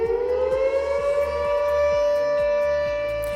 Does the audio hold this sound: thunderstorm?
no